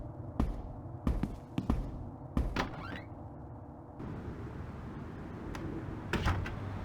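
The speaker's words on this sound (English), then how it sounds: "If you don't open, we'll break down the door." Heavy pounding on a door in The Longest Journey game, several loud, close thuds in irregular clusters, followed by a low rumbling background.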